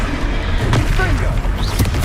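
Confringo blasting curse fired in Hogwarts Legacy, a booming fiery explosion burst amid ongoing battle noise and music, with whooshing spell effects layered over a dense, loud combat mix.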